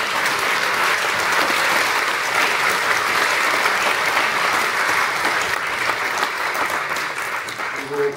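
Congregation at a military Christian association's anniversary thanksgiving service in a church giving warm applause, a loud, full, sustained roar of many hands clapping that tapers slightly near the end.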